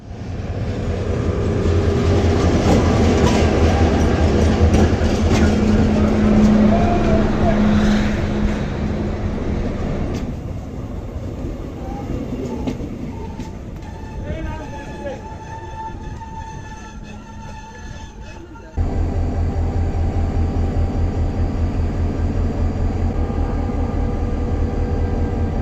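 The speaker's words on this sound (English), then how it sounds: "Once the train had finally started leaving the station" Run-down Tunisian passenger train pulling out of a station, a loud steady rumble of engine and rolling stock with squeals and clanks, easing slightly mid-way before the noise jumps up again near the end.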